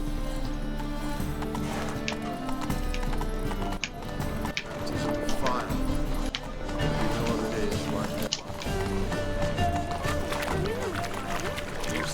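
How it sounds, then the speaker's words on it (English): A horse gallops with rhythmic clip-clopping hooves in The Witcher III video game, steady and close, with a whinny and game music underneath and a voice talking over it. "Okay, get on the horse."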